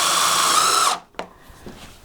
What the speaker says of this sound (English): now we're going ahead and placing the screws into the board